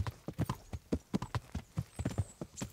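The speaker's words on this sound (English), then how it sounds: "That's Hans' horse." Horse hooves clip-clop at a steady walking rhythm on a medieval town street in the Kingdom Come: Deliverance video game, evenly spaced, close and fairly loud with no voices over them.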